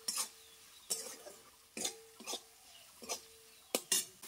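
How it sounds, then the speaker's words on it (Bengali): A spoon stirs chopped tomatoes with spices in a pan for a vegetarian potato and pointed gourd korma, about six distinct scraping, clinking strokes at irregular intervals, close and fairly quiet, with faint sizzling between and no talk. "টমেটোগুলো মশলার সঙ্গে ভালো করে কষিয়ে নেব।"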